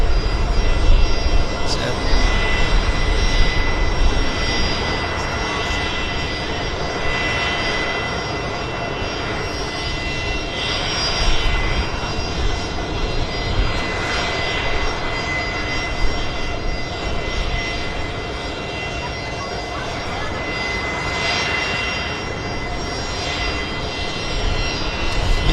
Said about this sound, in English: Korean Airlines Dreamliner.